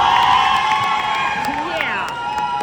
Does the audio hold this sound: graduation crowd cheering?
yes